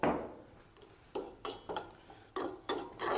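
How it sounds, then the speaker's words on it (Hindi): Semolina roasting in desi ghee with cardamom powder over a low flame, stirred with a utensil: a faint background hiss broken by a series of sharp scraping strokes against the pan, arriving in an uneven rhythm. "इस तरीके से देसी घी में हमने रोस्ट करना है सूजी को।"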